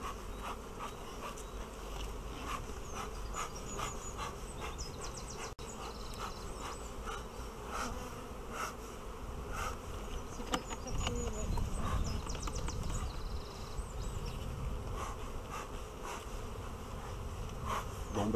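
Honeybees buzzing steadily at a hive during a spring inspection, a dense continuous drone close by with occasional faint sounds of handling.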